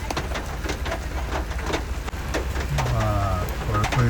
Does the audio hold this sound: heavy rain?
yes